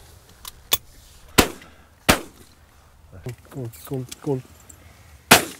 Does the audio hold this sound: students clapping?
no